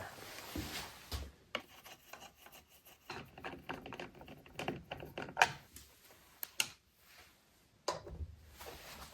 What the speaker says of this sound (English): So to get started, we'll take the jig off the miter bar.